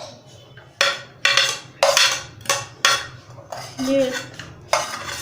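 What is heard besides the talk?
mixing chopped onions and ingredients in a bowl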